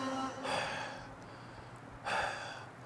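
Two close, breathy exhales blown straight onto ski goggles, each a short airy rush, separated by a quiet pause.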